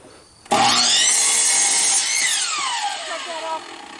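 A power saw bites into wood on a treehouse wall build, starting abruptly and running as a loud, close, whining cut for about three seconds before its pitch sags as it finishes.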